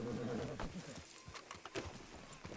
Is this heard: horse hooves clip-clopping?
yes